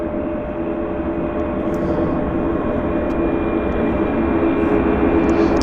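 A Boeing 737 Max jet taxis at Vancouver airport, its engines giving a steady, loud broadband roar with a constant whine, holding even for the whole stretch with no talk.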